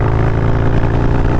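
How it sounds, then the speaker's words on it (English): A Harley-Davidson Sportster motorcycle with a 2-into-1 exhaust idles close by, a steady, loud, thumping low rumble running unbroken through the short moment with no talk. "the sound of a 2-in-1 is totally different"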